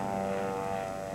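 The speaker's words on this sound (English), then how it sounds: "spotted a helicopter and radioed for assistance" A rescue helicopter operated by a public safety department flies overhead, a steady droning engine and rotor hum with strong tonal layers, continuous and fairly loud over this short stretch.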